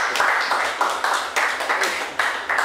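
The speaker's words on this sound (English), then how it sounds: "Clearly that was sarcastic applause." An audience at a technical talk on server-side JavaScript gives slow, evenly spaced clapping, about nine distinct claps in a loose, deliberate rhythm, with no talking over it.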